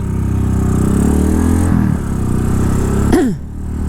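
A car rumbles steadily close by on a narrow, busy street in Bali, its engine note holding low and constant before a quick shift in pitch near the end as it passes.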